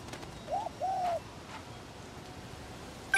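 A pigeon coos twice, softly and a little distant, in the Spider-Man Remastered video game, with low ambient city hum underneath and no talking.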